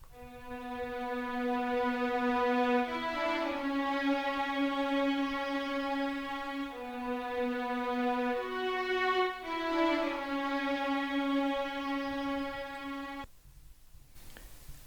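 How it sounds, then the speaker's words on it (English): Sampled orchestral strings from two libraries hold a slow, sustained chord progression for a hip hop soul sample, the chords changing every few seconds in smooth swells before cutting off near the end, with no voices. "I then added strings from orchestral"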